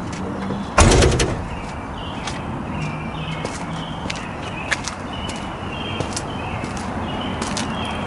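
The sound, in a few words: 1979 Corvette car door being shut after latch repair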